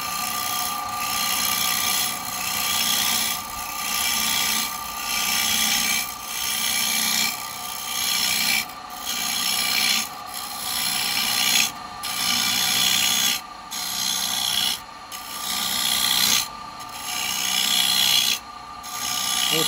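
A carbide chisel cuts a spalted beech bowl on a wood lathe, giving a loud continuous rasping scrape that swells and dips in rhythmic passes as the tool rides the bevel, close up with no talk.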